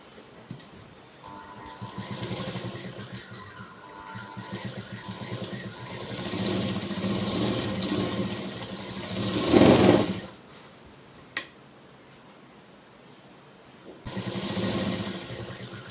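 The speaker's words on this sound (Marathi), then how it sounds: "तर मी आता आसनाला आधी शिलाई मारून घेते." A sewing machine stitches the seat seam of a child's Navari saree made from a Paithani saree, running steadily at close range for about ten seconds. A brief burst and a second run of stitching follow, with no talking.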